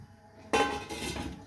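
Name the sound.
lid put on a cooking pot of pastitsada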